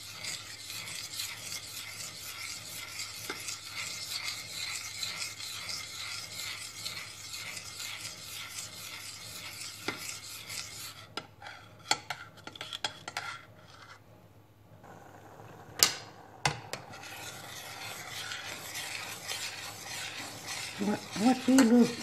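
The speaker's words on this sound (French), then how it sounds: "Voici le riz qui commence à bouillir. Laissez bouillir à grande ébullition, tout en remuant." Rice for rice pudding bubbles at a rolling boil in a pot while a spoon stirs and scrapes steadily, with occasional sharper clinks and knocks against the pan, close and fairly quiet.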